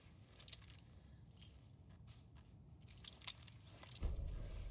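Keys jangling in the video game Alan Wake 2, a few quiet metallic clinks and rattles at low level, with a slightly louder thud near the end.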